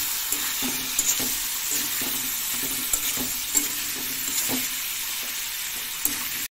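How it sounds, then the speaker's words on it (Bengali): Cumin powder and chili powder fry in hot oil for a fish curry, making a constant dense sizzle with faint intermittent spoon scrapes and taps against the pan, close up and alone without talk. "দিয়ে দেবো লঙ্কার গুঁড়ো 1 চামচ মতো, দিয়ে ভালো করে ফ্রাই করে নিতে হবে।"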